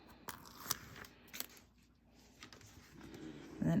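Backing paper peeled off double-sided sticky tape during a parrot-themed bag sewing project, heard as soft close crackles and papery tearing with a few sharper ticks and a rustle at the end, no talking.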